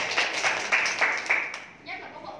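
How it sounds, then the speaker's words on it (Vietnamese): Studio audience clapping on a Vietnamese entertainment show, a run of steady, evenly spaced claps that fades out near the end while a voice talks underneath. "vỗ tay"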